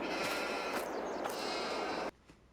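Sheep in a barn in Farming Simulator 22 bleat loudly and continuously, with several overlapping calls close by, then the sound cuts off abruptly to near silence.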